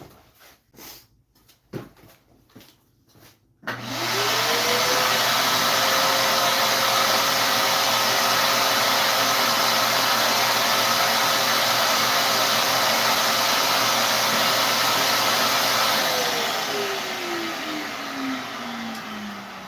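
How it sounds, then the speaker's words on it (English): After a few clicks, a close, loud vacuum cleaner motor spins up and roars steadily while sucking wood shavings out of a lathe-turned cherry bowl, then winds down at the end. "Vacuum that out."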